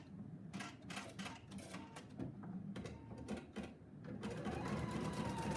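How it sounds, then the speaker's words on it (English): A Pfaff Icon sewing machine basting in the embroidery hoop, a steady rapid needle clatter with rhythmic stitching bursts, close but quiet, growing slightly busier toward the end, with no talk. "it's basting around the placket now"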